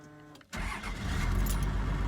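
A car engine cranks and catches after a brief quiet moment, then settles into a steady, close rumble in a vehicle being checked for a transmission problem.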